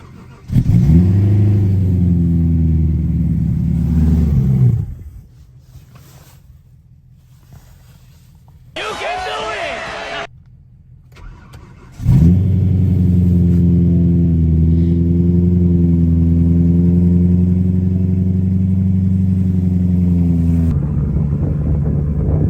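A car engine jump-started with booster cables runs loud and close with a steady droning hum, dies into near silence, gives a brief harsh burst, then catches again and keeps running evenly to the end.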